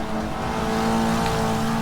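A Pontiac Solstice's engine drones steadily in Forza 6 at the Hockenheim circuit, a sustained, even-pitched hum with no revving swells or pauses.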